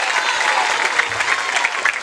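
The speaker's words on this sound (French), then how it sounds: "Applaudissez pour lui s'il vous plaît." An audience at a school event applauding, a dense, continuous burst of clapping from many hands, close and loud, with faint crowd murmur underneath.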